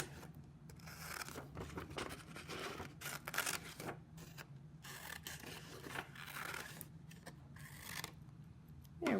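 Scissors cut across paper for a craft crown, a faint run of repeated snips and crisp paper rustling at close range.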